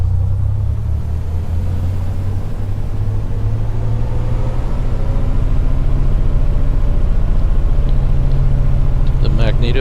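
A simulated Piper Comanche 250 engine holds a steady, loud droning rumble during a run-up to 2,000 RPM, a constant low hum that slightly intensifies midway, with faint clicks near the end.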